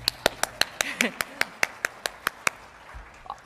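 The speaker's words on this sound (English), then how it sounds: "I'll clap for everyone" Hands clap in a brisk, evenly spaced run of about a dozen sharp claps at an annual government briefing, close and distinct, with a voice briefly speaking partway through before the clapping stops.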